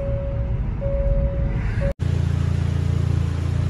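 A 2019 Hyundai Veloster with a freshly repaired engine cruises down the road, giving a steady, droning engine and road hum with a thin whine on top and a brief dropout partway through.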